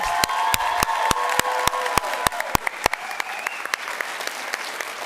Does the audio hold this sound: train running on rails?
no